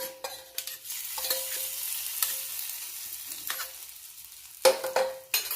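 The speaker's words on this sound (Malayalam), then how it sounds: "കടുക് വറുത്തത് കറിയിലേക്ക് ചേർക്കാം" Fried mustard seed tempering is poured into a brinjal (vazhuthananga) thodu curry, a soft sizzle with a spoon scraping and stirring, punctuated by a few sharper clinks and splashes near the end.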